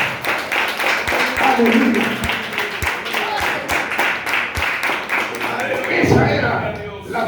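Church congregation clapping for Christ in rhythmic, sustained applause throughout, mixed with voices and a spoken exclamation over the top.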